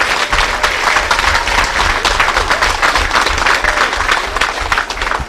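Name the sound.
audience applause for poster winners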